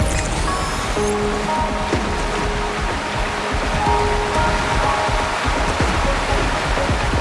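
A waterfall in the video game Wuthering Waves rushes in a steady, full roar of falling water that runs the whole time, with faint tonal game sounds layered over it.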